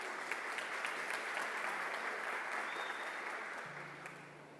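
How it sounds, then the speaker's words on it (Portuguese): Church congregation applauding during an evening worship service, a dense, steady clapping that fills the space and then gradually fades toward the end. "Você pode aplaudir a presença do Senhor nessa noite?"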